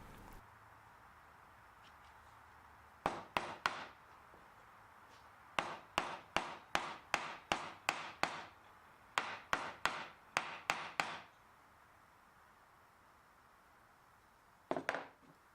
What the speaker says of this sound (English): I can align the fret with its slot and hammer it into place